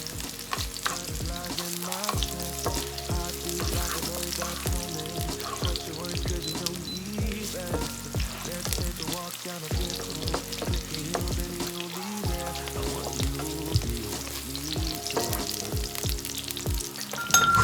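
Sliced garlic fries in oil in a pan, a loud, continuous close sizzle and crackle with repeated stirring scrapes and clinks throughout.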